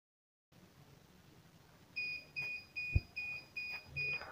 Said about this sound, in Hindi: तो आप देख सकते हैं कि जैसे ही कनेक्ट हुआ तो एक इसमें बीप आने लग गई है